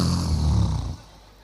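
A voice imitating a husband snoring: one long, low, rumbling nasal snore that fades out.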